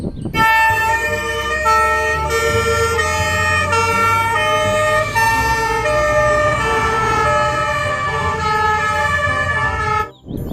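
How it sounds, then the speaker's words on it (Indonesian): A loud fire truck siren wails continuously with steady, tonal blaring, close by, then cuts off abruptly near the end. "Kalau yang ini namanya mobil pemadam kebakaran teman-teman."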